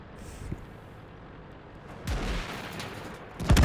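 A tank cannon fires in a World of Tanks replay, aimed at an ISU: two heavy booming shots at about two seconds and again near the end, each with a low thump and a rumbling tail.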